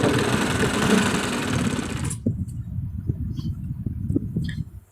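Sewing machine stitching elastic into trousers: a loud, steady, buzzing run of stitching that stops abruptly after about two seconds, followed by quieter fabric handling and light clicks.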